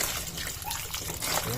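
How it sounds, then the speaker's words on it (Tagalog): Water poured over a corroded car battery and terminal on a Suzuki Every DA64 trickles and splatters steadily, a close wet pouring sound under a low background hum. "Bubuhusan natin ng tubig para malinis yung mga asido."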